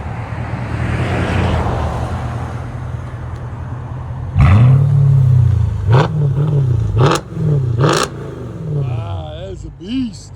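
A 2007 Mercedes S550 V8 with a straight-pipe exhaust starts with a low background rumble, then is revved loud and close in several sharp blips, with a voice briefly heard near the end.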